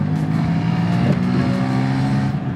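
A fire-damaged BMW F80 M3 strains under near-full throttle, its engine droning loud and steady from inside the cabin with a slight rise in pitch partway through.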